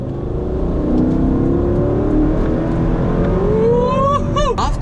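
A Mercedes E55 AMG sports car engine pulls hard under acceleration, a loud steady roar with its pitch climbing near the end.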